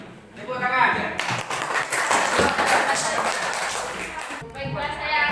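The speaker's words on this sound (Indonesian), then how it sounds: "Tepuk tangan." A classroom breaks into a burst of clapping that swells and holds for several seconds before fading, with voices talking over it.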